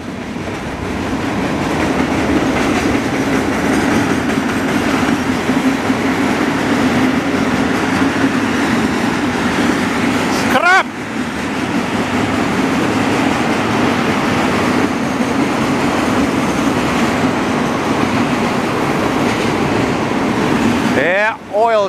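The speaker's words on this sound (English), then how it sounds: "Train." A CN freight train rolls by in Montreal's Ahuntsic borough with a loud, continuous rumble and clickety-clack of wagons over the rails, steady and close for the whole stretch, with a brief squeal near the end.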